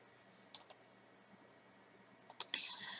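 Computer mouse clicks at a desk, a quick pair of sharp, quiet clicks followed a moment later by another cluster of clicks in a hushed room.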